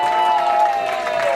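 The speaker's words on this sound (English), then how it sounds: "Please give her a hand clap, everybody." A brief burst of audience clapping during a discussion session, with crowd noise and a voice mixed in, fairly loud and close for just over a second.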